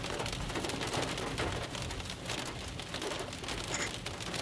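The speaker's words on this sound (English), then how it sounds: "You can hear the hail pelting his car right now." Hail pelts a car during a severe Nebraska thunderstorm, a dense, constant drumming patter on the body and roof heard from inside, loud and unbroken with no voices.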